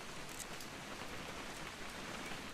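Rain in the video game What Remains of Edith Finch: a soft, even patter of falling rain, faint and unbroken, with no voices.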